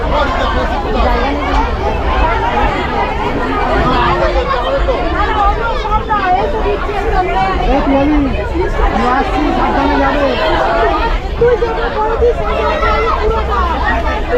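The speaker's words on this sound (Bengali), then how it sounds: "বর্ধমান থেকে ট্রেনে কিন্তু মোটামুটি ভালোই ভিড় হয়ে গেছে" A crowded carriage on an Intercity Express train after Bardhaman fills with steady, loud, close chatter from many passengers, a dense overlapping babble over low train rumble.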